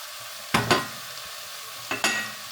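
Vegetables and paneer with curd stirred in a frying pan over a gas flame, two pairs of sharp scraping stirs over a low steady sizzle, close and clear with no talking.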